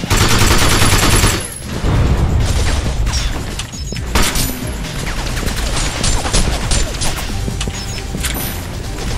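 Sustained gunfire in the video game Binary Domain, aimed at a fuel tank: dense, loud bursts of shots and crashing booms that run almost continuously, with a short lull before the firing resumes.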